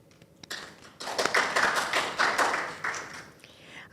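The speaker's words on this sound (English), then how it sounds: "I now ask for your applause." Audience applause at a nurse recognition ceremony, scattered individual claps building into a moderate burst of clapping from a modest crowd, fairly distant and with no talk.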